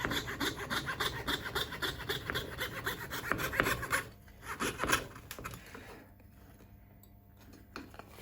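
Wood is cut with rapid, rhythmic rasping saw strokes while building an electric bağlama. The strokes run close and loud for about four seconds, then thin to a few softer scrapes before quiet.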